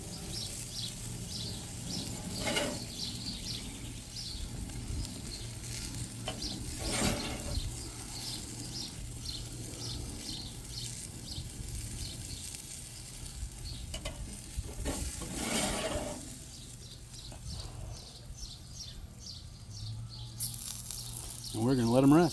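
Asian-style pork chops sizzle on a charcoal grill with a steady crackling hiss, interrupted by occasional scraping and metallic clanks as the meat is moved, while birds chirp in the background.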